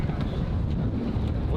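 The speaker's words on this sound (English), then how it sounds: "Oh, it's so windy." Strong outdoor wind buffets a microphone on a street corner, a steady low rumble running throughout with a faint voice underneath.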